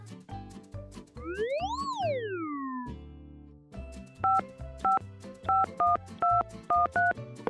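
A springy, sliding boing sound gives way to a quick run of telephone keypad dialing beeps, each tone short and clear, heard close with no talking.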